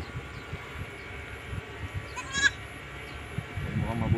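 A newborn baby goat gives a short bleat among quiet farm background noise, with scattered low knocks and a rustle near the end; faint and fairly close.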